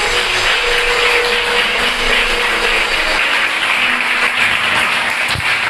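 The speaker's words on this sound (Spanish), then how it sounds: "Si ese aplauso es para Dios, déselo fuerte." A Spanish-speaking church congregation applauding, loud continuous clapping mixed with a broad noisy wash and a low hum, steady throughout.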